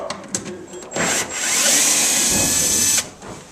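Power drill backing a screw out of a kitchen cabinet during demolition: a few short clicks, then one sustained high-pitched whirring run of about two seconds, close and loud, ending abruptly.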